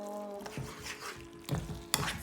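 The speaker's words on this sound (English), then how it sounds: "I'm gonna continue stirring." Spoon stirring food in a hot pan with a steady sizzle underneath, and a few scraping knocks against the pan.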